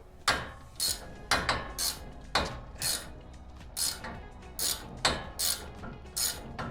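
A seized, rusted shaft on a Toyota 4Runner 5th gen suspension being turned while held with a 5mm Allen key, giving a series of regular metallic clicks and scraping ticks, close and fairly quiet, without talk.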